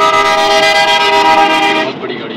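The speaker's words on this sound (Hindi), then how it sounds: "बहुत बड़ी गाड़ी जा रही है, बहुत ज़्यादा बड़ी है, देखें फुल प्रेशर हॉर्न लगाया हुआ है इस बड़ी गाड़ी" A loud, sustained multi-tone air horn from a very large vehicle on a wet mountain road between Naran and Kewai in drizzling rain, blaring close by for about two seconds before cutting off into road noise.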